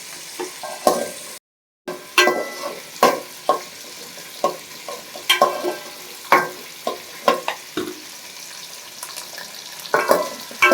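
Onions sizzle and fry in an oil-filled pan for goat intestine curry, with tomatoes added, while a spoon scrapes and stirs in a steady series of close clattering strokes over the continuous hiss.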